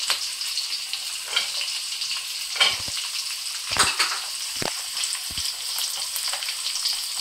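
Capsicum, carrot and beans sizzle steadily in hot oil in a pan, a continuous bright crackle broken by occasional stirring clatters, with no one speaking.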